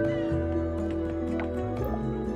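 A cat meows in the farming game Coral Island, a brief meow heard under steady, loud background music.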